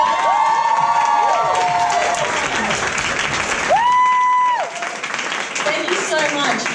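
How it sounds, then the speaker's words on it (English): Comedy show crowd applauding and cheering for women comedians on stage, loud sustained clapping with several high whoops and shouts standing out above it, dipping briefly then continuing. "Can I have a round of applause?"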